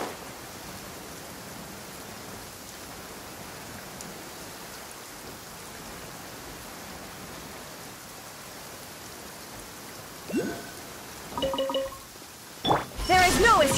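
Steady rain falls on a surface as a broad, even hiss that holds for most of the stretch, then a few clinks and knocks break in near the end.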